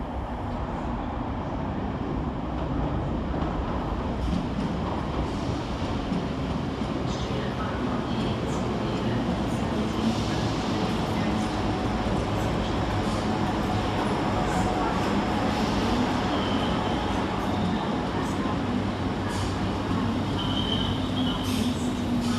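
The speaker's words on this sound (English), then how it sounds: "Next arrival into the station is 32401 and 32418, working the 1727 Scotrail service from Ballach to Airdrie." Two Scotrail class 320 electric units, 320401 and 320418, roll into Glasgow Queen Street station with a steady rumble of wheels and motors and faint squeals, under a continuous spoken commentary.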